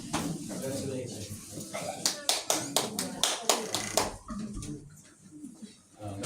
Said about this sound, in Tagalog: Palakpak naman kayo dyan.